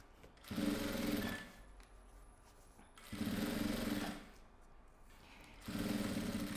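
A sewing machine stitches a lining into a two-compartment pencil case, running in three separate bursts of fast, even mechanical whirring, close by and with quiet pauses between.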